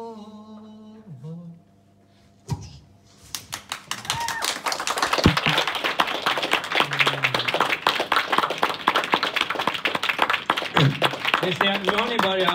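Live concert crowd at a festival bursting into dense clapping after the music ends, the applause building and holding steady near and loud, with occasional voices and a speaking voice mixed in.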